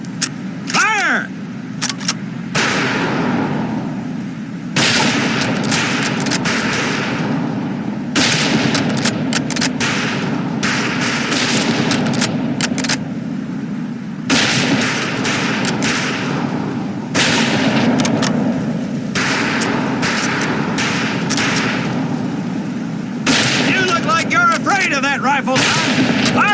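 Rifle fire on a firing range in the PC game Medal of Honor Pacific Assault, a series of sharp gunshots of varying closeness over steady game ambience, with voices barking range commands.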